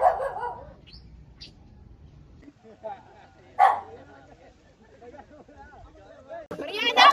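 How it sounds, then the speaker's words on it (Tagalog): A dog barks in sharp bursts, one near the start, another mid-way and a cluster at the end, amid people speaking and quieter stretches of low background noise. "Mariana, yung aso mo nanunugod"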